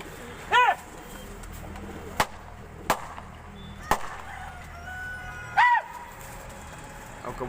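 Two short coos from pigeons ring out clearly outdoors, separated by several sharp taps or clicks, over a low steady background with no wind.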